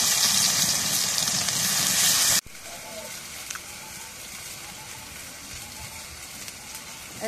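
Oil with onions sizzles loudly in a kadai (frying pan) for a couple of seconds, then abruptly drops to a softer, steady frying hiss.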